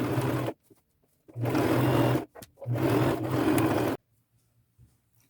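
A sewing machine stitches a vintage lace crossbody purse in three steady bursts of about a second each, separated by short quiet pauses, close and fairly loud.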